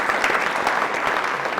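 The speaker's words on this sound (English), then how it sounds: "One more round of applause." An audience at a university distinguished alumni awards ceremony gives a round of applause, a brief, even burst of many hands clapping at moderate volume with no talk over it.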